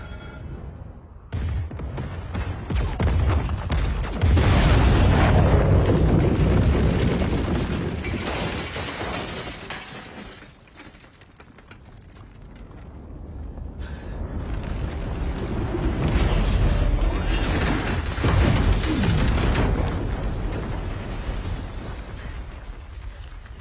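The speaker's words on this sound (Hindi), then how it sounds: "उड़ा दो।" Thermal mines exploding in a sci-fi action movie, two massive rolling blasts with long rumbling booms and debris that swell, fade and build again.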